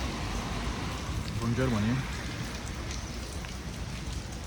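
Steady rain falls all day on a walking route near San Sebastián in Spain, a constant broadband hiss running through the whole stretch while someone talks briefly over it.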